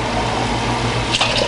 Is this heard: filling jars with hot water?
yes